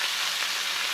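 A venison steak sizzles in a hot pan with a steady, close, even hiss of frying fat that continues without a break.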